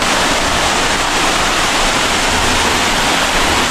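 Twin Falls in Kalayaan, Laguna, a close, loud waterfall giving a constant dense roar of falling water with no pauses.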